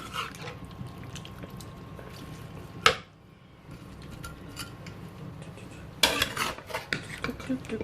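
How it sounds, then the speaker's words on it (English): Vegetable beef stew is stirred in a pot with a spoon, giving faint, soft scraping and liquid sounds, broken by two sharp clinks of utensil against the pot and a short quiet gap between them. "Let's try to stir this in."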